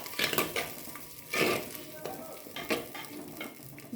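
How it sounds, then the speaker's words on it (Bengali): Cumin and coriander being stirred and fried with a spice paste in a pan, with a soft sizzle under scraping and clinking spoon strokes, fairly quiet and close. "জিরে, ধনে দিয়ে এরপর কিছুক্ষণ নেড়ে কষিয়ে নেব ভালো করে"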